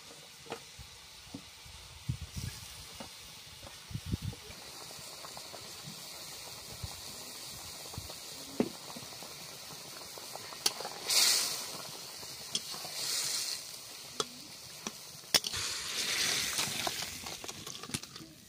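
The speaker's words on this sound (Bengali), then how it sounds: "এবার মাছটা মানে ঢেলে দিচ্ছি তরকারিতে।" Fish tipped into a simmering sour mango curry, home-cooked with freshly net-caught fish, gives a few short sizzling bursts followed by a longer steamy hiss over a quiet background.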